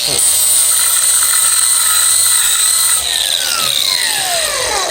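A handheld power sander runs loud and steady on coarse sandpaper during a custom Jeep half-door project. A continuous high whine holds for the whole stretch and dips slightly near the end as the gummed-up paper is cleaned off.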